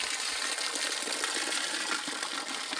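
Water rushing through a pipe filter after it is opened in a rural Uttarakhand mountain village, a loud, steady gushing flow that continues unbroken, with no talking.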